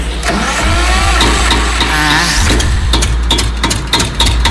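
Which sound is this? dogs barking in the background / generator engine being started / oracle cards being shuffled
generator engine being started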